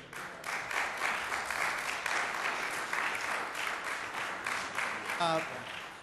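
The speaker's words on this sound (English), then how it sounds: "If we could refrain from clapping, we're trying to get the meeting conducted. I do appreciate your applause" A council chamber audience gives sustained, moderately distant applause with a steady wash of clapping, and a voice briefly cuts in near the end.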